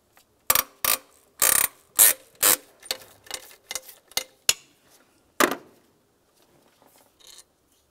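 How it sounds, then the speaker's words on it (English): A hand ratchet loosening the thermostat housing bolt on a 2012–2019 Ford Explorer, close and clear: a run of sharp, rapid clicks in short bursts, then a final click and near silence. "Now we can remove the final bolt up here."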